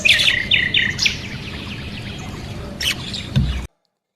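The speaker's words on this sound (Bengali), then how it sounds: "পাখির ডাক, পাতার মর্মর শব্দ," Birds calling in Ramna Park, Dhaka, on a morning walk, with repeated high chirps and tweets early on and a few later calls over a rustling outdoor background, moderately near, no talk.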